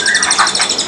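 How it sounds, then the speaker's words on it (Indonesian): A brown cililin bird at a bird market sings a rapid, loud run of bright chirping notes, close and continuous for the whole moment. "Cililin coklat, terpantainya udah rajin bunyi ya."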